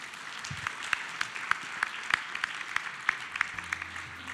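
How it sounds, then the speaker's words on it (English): A small symposium audience gives sparse, distinct claps for the panelists. Individual hand claps ring out separately at a moderate distance, with a faint background hum. "Let's give a nice round of applause for the panelists"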